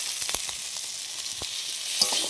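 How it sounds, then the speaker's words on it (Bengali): Squid goes into hot spiced oil with potatoes and sizzles up close, with a few sharp clatters of a utensil against the pan over a continuous hiss. The sizzle swells toward the end. "এবার স্কুইডগুলো দিয়ে দিলাম তার উপরে"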